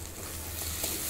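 Onion and tomato fry in oil in a pan with turmeric, salt and sugar, giving a steady, close, crackling sizzle throughout.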